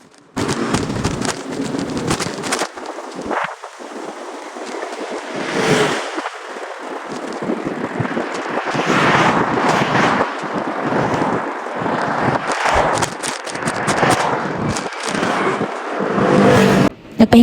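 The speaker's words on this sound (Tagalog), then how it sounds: "nakakabingi kasi sa loob kasi yung nasa taas na dumadaan is yung train at tsaka yung ibang mga sasakyan" Loud traffic and a train passing overhead, heard from an underpass beneath a bridge in Taiwan: a booming, rushing roar that rises and falls in waves, with sharp rattling bursts throughout.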